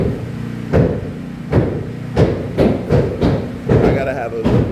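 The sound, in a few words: hammering upstairs on new house construction site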